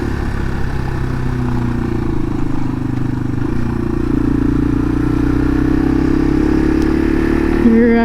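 A Yamaha TW200 motorcycle's engine runs steadily in second gear on a short ride, a loud, close, continuous drone that holds at a constant pitch under the rider's voice.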